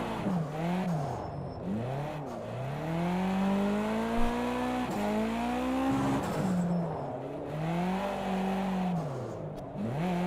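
Racing game car on a short kart track with proper tyres fitted, engine note rising and falling through repeated shifts and revs, steady and close throughout with no talking.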